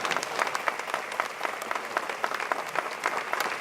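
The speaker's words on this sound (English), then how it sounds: "You can all applaud." An audience at a Presidential Medal of Freedom ceremony for Angela Merkel applauds, a dense, even roar of many clapping hands heard alone.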